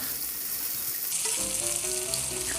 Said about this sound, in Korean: 팬에 열기가 올라오면 양파부터 볶아보도록 하겠습니다